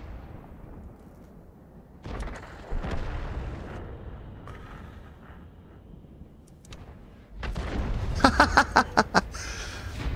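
Artillery gun shots from an AMX 13 F3 AM self-propelled gun in a tank video game: sharp booming blasts, the loudest near the end, over a low rumbling game soundscape.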